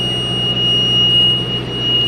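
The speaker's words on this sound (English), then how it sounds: "It's got this annoying extra beep that it doesn't normally do" A hay baler baling for a Wagyu cattle herd sounds a warning beep before wrapping the bale: a steady, high electronic tone held without a break over a low machine hum, with no talking.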